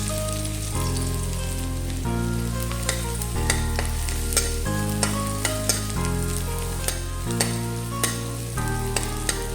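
Garlic frying in cooking oil for Filipino nilagang corned beef gives a steady, close sizzle with occasional sharp stirring clicks, all heard over a loud background of music.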